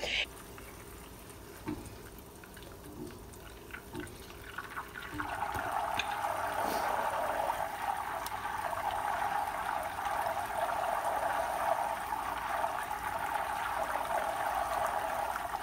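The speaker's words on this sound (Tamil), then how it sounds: "லைட்டாக சிம்முக்கு விட கொஞ்சம் ஜாஸ்தியாக நீங்கள் வந்துட்டு கொதிக்க விட்டுட்டாலே போதும்" A pot of ghee bubbles and sizzles steadily, growing louder after a few seconds into a constant simmering hiss, with faint speech in the background.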